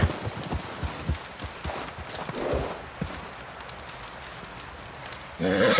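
Horse hooves in Red Dead Redemption 2 clip-clopping in an irregular, fairly close rhythm over a soft rain-like background, with a louder burst of noise at the very end.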